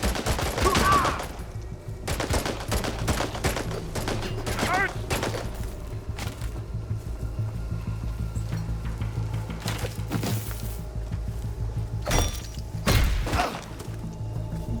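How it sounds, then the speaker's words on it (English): Frost bullets fired in Chernobylite 2 make a series of sharp, scattered shots and thuds over a low, steady rumble, with some voices heard between the bursts. "Wait, I'm shooting like frost bullets?"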